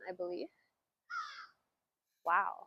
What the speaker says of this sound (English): We got crows. We got crows.